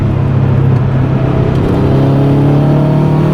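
A built Subaru WRX Hawkeye driving fast on back roads, a loud steady engine drone and road rumble heard from inside the car.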